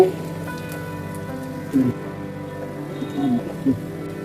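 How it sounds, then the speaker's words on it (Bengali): Chopped onion and garlic cloves sizzle steadily in hot oil in a pan for a Bengali chicken curry, a constant close frying hiss with a few brief louder stirring or clatter moments. "এবারে দিয়ে দিব পেঁয়াজ কুচি রসুন কোয়া পেঁয়াজটাকে ভেজে নিব"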